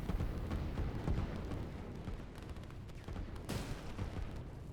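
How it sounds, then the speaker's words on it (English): Artillery pounding production facilities in the strategy game Line War: a dense, continuous barrage of booming shots and rumbling impacts, loud and steady throughout with a sharper burst near the end. "now that the artillery is on top of the production facilities, pretty much anything that pops out of these 2 buildings is going to be immediately under fire"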